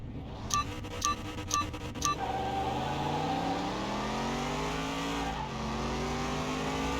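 Engines rev up during a drag-style race in Car Mechanic Simulator 21, with four sharp countdown beeps followed by a sustained rising engine roar that shifts pitch, steady and fairly loud.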